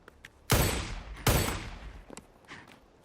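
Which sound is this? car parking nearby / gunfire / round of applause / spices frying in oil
gunfire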